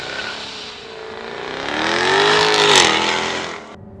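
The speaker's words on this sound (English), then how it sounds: "the exhaust note that comes out of the back of the Jag" A Jaguar F-Type R sports car accelerates hard off the line, its exhaust note rising in a loud, throaty roar that climbs through the revs and then drops sharply at a shift.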